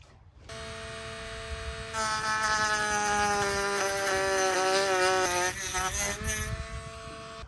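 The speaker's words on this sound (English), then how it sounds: "mark it on the bumper and Dremel it and hope it's good" A Dremel rotary tool cuts a hole into a car bumper for an S550 angle kit, giving a loud, steady high-pitched whine that wavers in pitch under load for about four seconds before spinning down.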